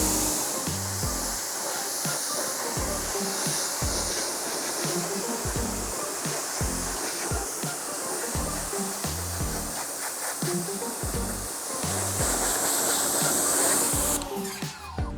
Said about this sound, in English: you just grab your water hose or your pressure washer and you start rinsing it down